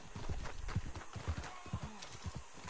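Horse hooves clip-clopping in Red Dead Redemption 2, a steady walking rhythm of distinct hoof strikes close up, with a brief whinny-like tone partway through.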